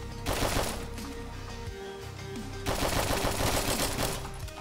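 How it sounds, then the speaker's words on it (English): Shotgun gunfire from the video game Hotline Miami comes as two loud, dense bursts of rapid blasts, separated by a brief slightly quieter stretch. "he's got a shotgun"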